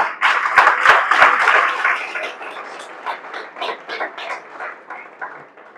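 An audience at a network marketing seminar breaks into clapping, loud and dense at first with a few sharp claps standing out, then thinning into scattered, uneven claps that fade toward the end.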